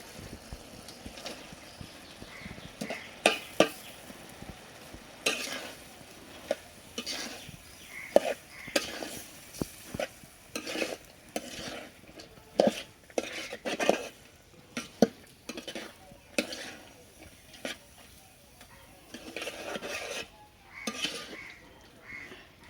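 Papaya and potato pieces stirred into churi shutki in a pan, irregular scraping and clinking of a utensil against metal with soft sizzling underneath, close and fairly quiet.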